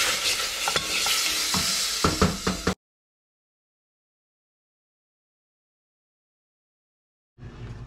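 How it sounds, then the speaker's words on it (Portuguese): Meat sizzles loudly in butter in a pan while a utensil stirs and scrapes, then the sound cuts to silence before the sizzle briefly returns. "Vamos fritar com manteiga."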